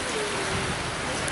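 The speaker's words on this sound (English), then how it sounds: "And then it poured down rain." Heavy rain pours down on a sailboat in the Caribbean, a dense, steady hiss of downpour filling the space evenly and close by, with no break over the short stretch.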